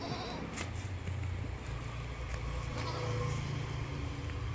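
A goat bleats a few times over a low rumble of passing traffic, with people talking faintly in the background at a livestock sale.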